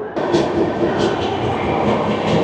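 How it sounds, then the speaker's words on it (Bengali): The NJP to Howrah Shatabdi Express, running late, pulls out of a station from inside its Vistadome coach, a loud rolling rumble of wheels and rails building steadily with a faint rhythmic clatter. "ট্রেন তো একে লেট, অত আর বেশি দাঁড়াচ্ছে না, ছেড়ে দিল।"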